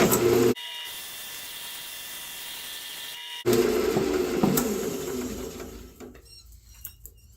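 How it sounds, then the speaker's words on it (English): Steady abrasive whirring of sandpaper against a spinning segmented woodturning on a lathe, with a brief pause, then the rasp resumes and gradually winds down. "looks like I need just a little bit more sanding"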